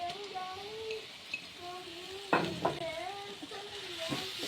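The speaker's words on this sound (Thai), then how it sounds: "ผัดปลาดุกอ่อนนะ" Young catfish being stir-fried in a pan, with a soft steady sizzle and scraping stir strokes against the metal, a few sharper clanks of the utensil, while a person speaks intermittently over the cooking.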